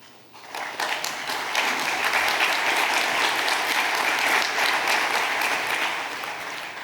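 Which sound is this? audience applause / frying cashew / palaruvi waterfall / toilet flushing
audience applause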